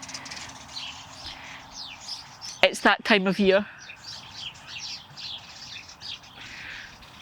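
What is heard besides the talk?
sparrows chirping around the house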